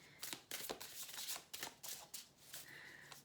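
Tarot cards being shuffled close up, a quick run of crisp riffling bursts and slaps, quiet and with no talking.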